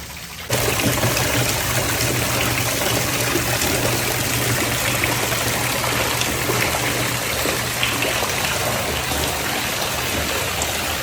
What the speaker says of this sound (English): Let's try it out to see if this water pump is of good quality.